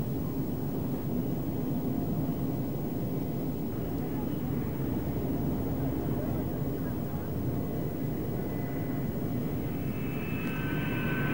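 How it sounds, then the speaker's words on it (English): An F-4 Phantom II test aircraft powered by J-79 engines roars steadily through a takeoff run on a dry lakebed runway, a loud continuous jet rumble that stays heavy throughout, with a rising whine near the end. "The aircraft took off downwind to make full use of the runway."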